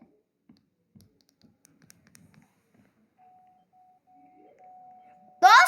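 A doorbell is rung in a home, a thin electronic tone that rises and holds over a couple of seconds after a string of faint clicks and taps, then gives way abruptly to a louder burst.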